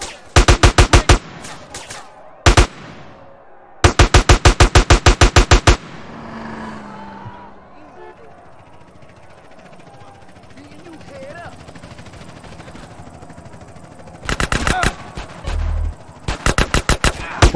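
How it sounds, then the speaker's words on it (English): Automatic gunfire in GTA San Andreas: rapid, loud bursts of machine-gun shots, several strings in the first seconds, a quieter lull with distant ambient noise, then more close bursts at the end. "Why are you shooting me?"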